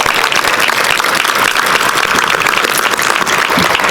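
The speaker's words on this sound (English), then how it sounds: "That is worth a round of applause." Audience at a College Football Playoff championship news conference applauding, a loud, even, continuous burst of many hands clapping at close range with no talk.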